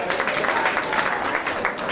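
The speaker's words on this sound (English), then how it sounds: "Another round of applause for this kid." Applause rises from a crowd in the show barn at a county fair swine show, broad and steady, with dense overlapping claps filling the whole moment.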